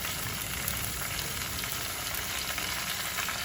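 Capsicum and onion fry in a hot pan with a steady, loud, unbroken sizzle and crackle filling the whole stretch, close up and with no talk.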